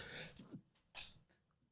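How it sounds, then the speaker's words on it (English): Two quick, sharp sneezes from one person during a quiet indoor podcast recording, fairly faint, with a short gap and a softer breath between them. "Quick little sneezing fit."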